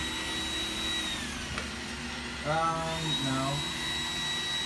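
An iRobot Roomba 980 robot vacuum cleans the floor with a steady, close motor whine and suction hum, its pitch shifting slightly as it moves, while a person speaks briefly over it.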